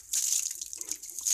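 Water running steadily while a motorcycle is washed, a continuous bright hiss and splash that carries on alone through a short stretch without any talk.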